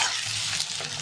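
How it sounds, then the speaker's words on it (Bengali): Onions, tomatoes and green chillies fry in oil in a wok, giving a steady, close, full sizzle with light stirring throughout and no speech. "পেঁয়াজ টমেটো কাঁচা লঙ্কাটা ভেজে নেবো"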